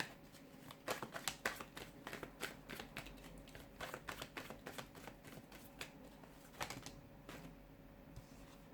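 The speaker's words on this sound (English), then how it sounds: "give the cards a shuffle" Rapid riffling clicks of cards being shuffled, coming in bursts over several seconds, close by and fairly quiet, with no voices.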